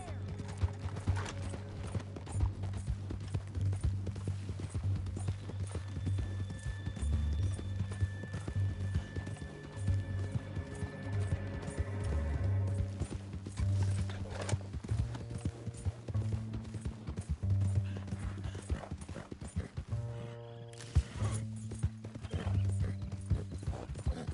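In Red Dead Redemption 2, a horse's hooves clip-clop steadily over a long stretch, with occasional whinnies, under game music and intermittent speech.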